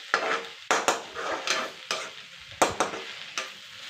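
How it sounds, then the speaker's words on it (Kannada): Okra frying in oil in a pan, with sharp intermittent scrapes and stirs about every half second over a light sizzle, close and fairly loud with no talking. "ಇದ್ರ ಜೊತೆನೇ 1-2 ನಿಮಿಷ ಫ್ರೈ ಮಾಡೋಣ"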